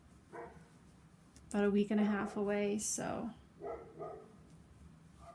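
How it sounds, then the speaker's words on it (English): Several dogs barking outside an open window in a quick burst of yaps and barks in the middle of the clip, heard at moderate distance under a person talking nearby. "Sorry if you hear some dogs barking outside."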